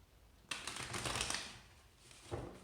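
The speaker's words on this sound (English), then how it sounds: "Okay, two more shuffles." A quick riffle of cards shuffling, a soft fluttering burst followed by a brief tap, close and fairly quiet.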